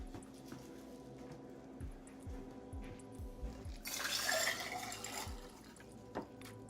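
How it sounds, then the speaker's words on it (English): A cocktail poured over a mint leaf into a glass, heard as a faint, brief splashing fill in the middle against quiet background noise. "Now it's time to pour it in."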